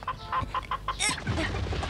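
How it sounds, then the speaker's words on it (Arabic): Cartoon chicken clucking in a rapid run of short, bright clucks, then a louder squawk, with busy background sound following in a 1991 animated series. "قفي يا دجاجة قفي"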